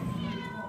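A cat meows once, briefly and close, among cats abandoned by their owners and taken in by a retired woman, with a voice talking over it.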